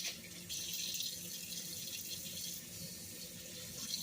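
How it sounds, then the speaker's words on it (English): Cold water runs steadily from a kitchen tap in a continuous soft hiss that shifts slightly as the flow changes, with no talk. "Turn on some cold water here."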